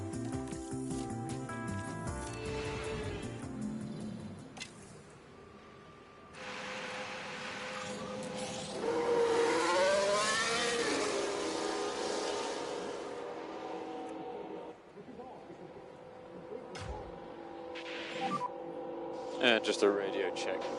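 Formula 1 cars in the F1 Manager 23 racing game at Montreal, engine whine and revving rising and falling over a steady mechanical background, with a loud burst midway and scattered clicks.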